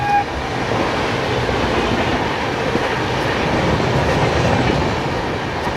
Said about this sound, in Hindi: और यहाँ पर हमें क्रॉस कर रही है दौंड इंदौर एक्सप्रेस